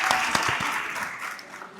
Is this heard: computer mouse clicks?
no